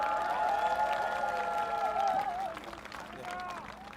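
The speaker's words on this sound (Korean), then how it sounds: "여러분 큰 박수 부탁드립니다" A crowd at an outdoor political rally in Seongdong, Seoul, claps and cheers in a dense, steady wash. Sustained tonal sound and voices ride over it before the applause thins near the end.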